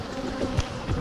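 Honeybees buzzing around a beekeeper making up nucleus colonies, a steady insect hum with a few louder swells as bees pass close to the microphone.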